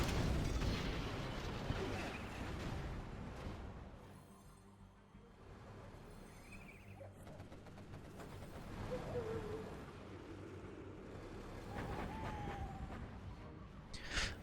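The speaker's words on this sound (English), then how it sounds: "Artillery coming in once again." Artillery shelling from a real-time strategy battle game: heavy booming impacts early on, then quieter rumbling blasts and scattered combat noise further off, fading and returning toward the end.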